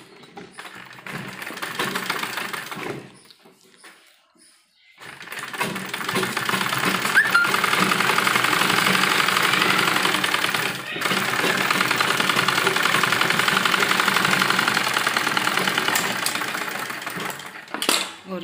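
A sewing machine runs in long continuous bursts, stitching frills onto both sides of a baby's dress, with a short pause near the start and a brief break midway, loud and close with no talk.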